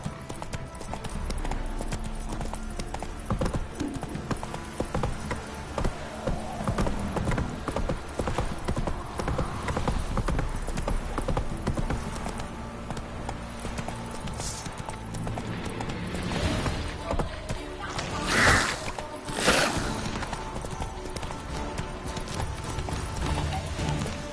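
Roach, a horse in The Witcher 3: Wild Hunt, trots with a steady clip-clop of hooves that carries through the whole stretch over a busy game soundscape, broken by a few louder thumps near the end.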